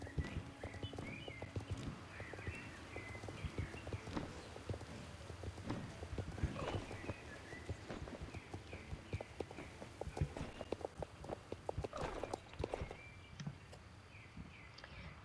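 Horse hooves clip-clopping in the Star Stable Online video game, a steady walking rhythm of hoof falls at moderate distance with bird chirps layered in the background.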